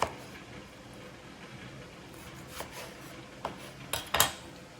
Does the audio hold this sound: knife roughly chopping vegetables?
yes